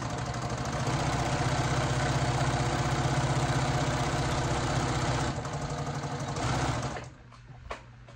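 A sewing machine runs steadily as it stitches an apron seam, a loud, continuous close-up motor whir that eases slightly near the end and then stops, leaving faint clicks.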